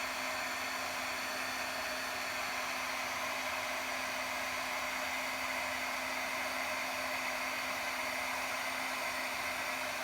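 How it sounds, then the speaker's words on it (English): An embossing heat gun blows steadily at a candle, a constant even airy whir with a faint tonal hum lasting the whole stretch, with no voices. "especially if you're using an embossing gun"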